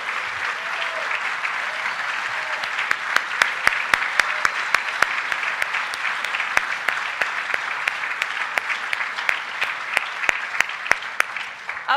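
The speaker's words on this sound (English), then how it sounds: "Let's give these guys a round of applause." A large audience applauds the General Motors, Department of Energy and Argonne organizers at the close of a student vehicle engineering competition: a dense, steady wash of clapping for the full length, with sharper individual claps standing out.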